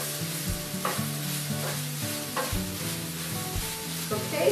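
Vegetables and apples with Madras curry paste are stirred in a pan. A rhythmic scrape returns about once a second over a gentle sizzle, up close, with no talking.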